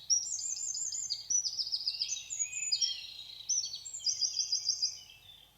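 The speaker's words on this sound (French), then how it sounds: "le son plus aigu, c'est un troglodyte" A Eurasian wren delivers a long, high, rapid song of bright trills and chattering phrases, clear and fairly close against a quiet background.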